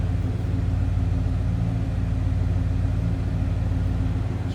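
A 2003 Ford Mustang Cobra Terminator engine idles close by with a deep, steady, even rumble and no voices.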